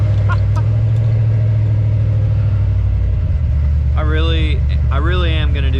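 A car with a loud, unwanted aftermarket exhaust idles with a heavy, steady low rumble throughout, while a voice speaks over it in the final seconds.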